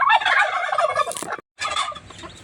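Birds on a small backyard farm give loud, close, rapid gobbling calls in a dense burst, break off briefly, then resume more faintly, with no talk.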